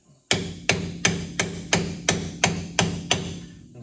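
A chrome socket is hammered onto a brake dust cap during drum-to-disc brake work on a 1969 Chevrolet Camaro, giving nine sharp metallic strikes at an even, steady rhythm, close and loud with short ringing decays.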